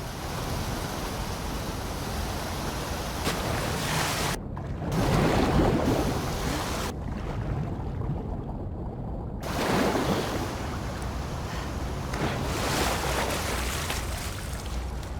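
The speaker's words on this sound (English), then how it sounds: "the player was faced with a fast-flowing torrent of water they couldn't cross" A fast-flowing torrent of water in The Last of Us Part II rushes continuously with a loud, dense roar. It swells and briefly drops away twice, with no talking.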